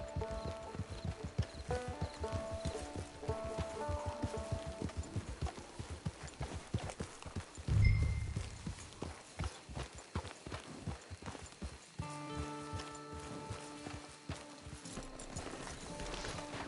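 Rhythmic clip-clop of horse hooves walking in Red Dead Online, with music playing underneath and a short burst near the middle.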